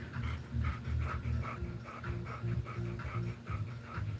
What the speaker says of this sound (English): There are 3 dogs here, actually, Betty.